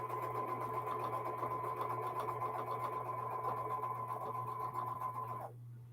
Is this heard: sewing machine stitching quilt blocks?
yes